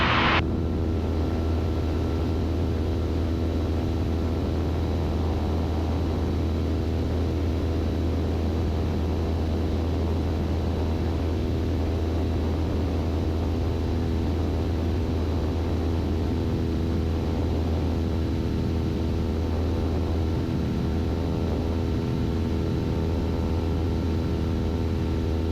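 A steady, droning piston engine fills the cabin of a Beechcraft Bonanza in flight as it banks into a left turn. The hum is constant and even throughout, with no voices.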